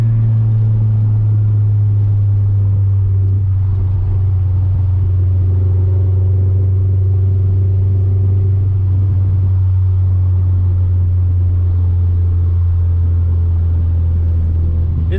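A 1999 Acura Integra DC4 engine with an SRS axle-back exhaust holds a loud, steady high-rpm drone near redline, a deep continuous rumble with slight pitch shifts and no break.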